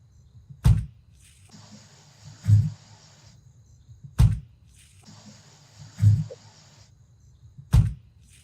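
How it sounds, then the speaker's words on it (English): A white 2016 Hyundai Elantra trunk shuts repeatedly: five sharp thuds at steady intervals, some preceded by a soft whirring or sliding sound, with quiet background hiss in between. "This is just a trunk sound comparison."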